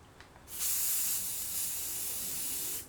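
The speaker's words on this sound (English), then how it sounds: "This was my very first time spray painting anything" A spray paint can releases a steady, loud hiss for about two seconds after a few faint clicks, close by.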